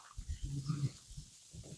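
A few goats mixed into a flock of lambing sheep bleat in short, faint calls at a farmyard feeding spot, with quiet gaps between.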